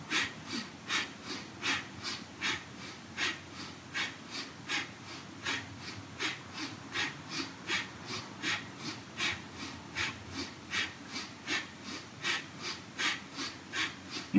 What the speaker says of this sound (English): tuck the chin slightly, and beginning breath of fire